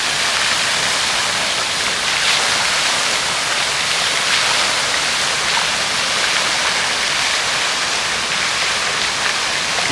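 Water from the Peterhof fountains splashes and rushes in a steady, full roar like a waterfall, close and continuous with no talk over it.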